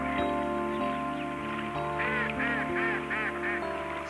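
A mallard hen and her brood bathe in wind-blown algae foam on the water, giving a run of honking, nasal calls over a constant background hum, close and fairly loud.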